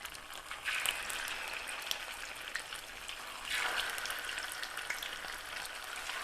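Gola kababs fry in hot oil, giving a steady, close crackling sizzle that swells briefly as they settle, with no voices.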